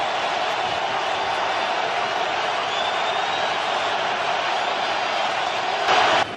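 Roaring stadium crowd at an NFL game between the Buffalo Bills and Kansas City Chiefs, a constant broad wall of cheering noise that holds steady throughout and swells briefly near the end.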